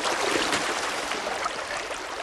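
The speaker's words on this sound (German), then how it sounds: "Dieses kräftige Strudeln." Water in a mill stream swirls and gurgles strongly in a brook, a dense, steady rushing heard up close without pause.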